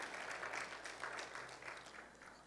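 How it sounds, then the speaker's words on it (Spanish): Soft, distant church congregation applause during a sermon, a faint and steady patter of clapping that thins slightly toward the end. "Dele un aplauso a Él, a Jesús."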